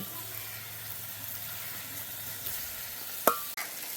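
Vegetables sauté in a pan for a Sri Lankan village-style prawn curry, giving a steady low sizzle with soft stirring under it and a single sharp clink near the end.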